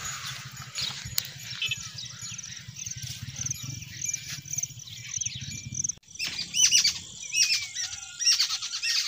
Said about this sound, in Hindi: देखिए ये परिंदों के चहचहाने की आवाज़, माशाल्लाह ज़बरदस्त।